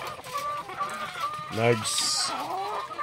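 Hens cluck softly and steadily nearby, with one louder drawn-out squawk in the middle against a low background hum.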